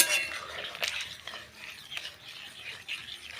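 Stirring freshly added crumbled lentil dumplings (bori) in a home cooking pot, heard as faint, scattered metallic scrapes and clinks of a spoon against the pot, soft and uneven over a low background hiss.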